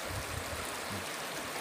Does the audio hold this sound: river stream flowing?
yes